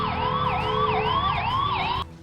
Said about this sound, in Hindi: हालांकि एम्बुलेंस ड्राइवर लगातार सायरन बजाते रहे ताकि उन्हें आगे जाने का रास्ता मिल सके।